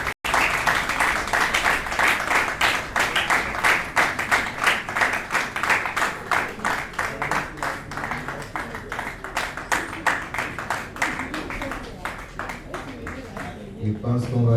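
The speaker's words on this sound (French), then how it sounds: "Nous allons continuer à applaudir." An audience at a stage show in Niamey claps along in a strong, even rhythm, loud synchronized beats repeating steadily for a long stretch, with voices and some music faintly beneath.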